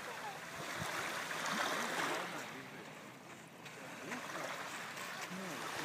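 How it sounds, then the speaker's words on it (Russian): Waves wash and churn on a lake at Peterhof, a continuous watery surge with wind, fairly close, while voices are faintly present in the background. "Какие волны, Максим, смотри. Как на море бушуют."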